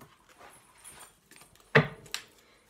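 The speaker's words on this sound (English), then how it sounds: "That's my dog." A pet dog lets out a short, sharp bark or yelp indoors, followed by a smaller second sound, against a quiet room background.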